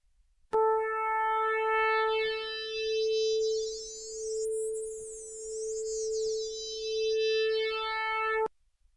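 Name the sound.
synthesizer with chorus effect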